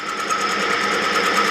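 Small milling machine taking a light skim cut across a tractor cylinder head: a steady, continuous metallic whirr and hiss with a faint rhythmic flutter, close and fairly loud, with no voices.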